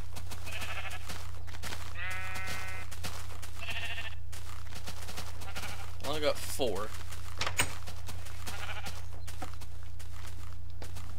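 Sheep in the Minecraft video game bleat a few times in short game-sound bursts while someone talks over them, with a steady low hum throughout.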